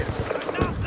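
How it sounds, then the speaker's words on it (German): A revolver fires in the shooter game Black Ops 2, giving a sharp, loud gunshot burst over dense in-game noise in a very brief moment. "Zwei Schüsse mit dem Revolver."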